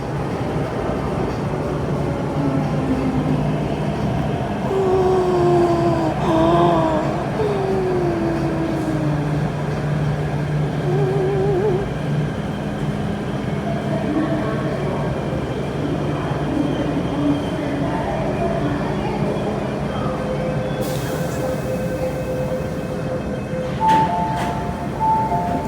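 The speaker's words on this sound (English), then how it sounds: "Rush hour train now." A rush-hour metro train pulls into Tai Koo station in Hong Kong, a rumbling arrival with rising and falling electric motor whine, squealing brake tones and a steady underground hum, ending with short chime-like signals.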